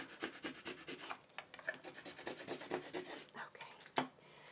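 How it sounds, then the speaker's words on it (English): A Cricut scraper tool drags slowly across a vinyl label, giving a soft, close rubbing and rasping scrape in repeated strokes, quiet overall with one sharper scratch near the end. "I'm actually going to scrape it down a little bit more"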